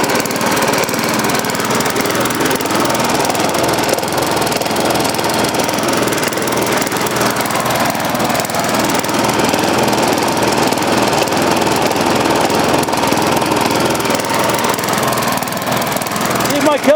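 A repaired lawn mower engine runs at a loud, steady, rough roar close by, continuous throughout with a faint voice beneath.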